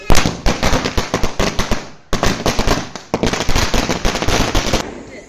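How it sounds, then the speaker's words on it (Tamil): Rapid crackling bursts of Diwali auto bomb firecrackers explode loudly and continuously in long rattling strings, with two brief pauses before dying away. "atom bomb"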